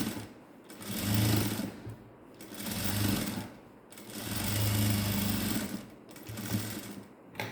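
Sewing machine running a seam on a ladies' straight pant, several close bursts of steady motor whirr and needle chatter separated by short stops, no voices over it.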